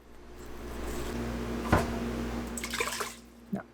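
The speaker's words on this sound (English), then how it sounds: "you just put some water in the bottom of the Instant Pot" Water is poured into the bottom of an Instant Pot to steam a cake pan: a quiet, steady trickle with a dull clunk in the middle and a small knock near the end.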